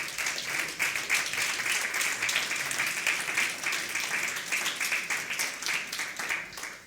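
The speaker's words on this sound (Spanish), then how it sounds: "dándole un aplauso bien fuerte al Señor" A church congregation claps loudly and steadily throughout, a dense, sustained wave of applause close by with no break.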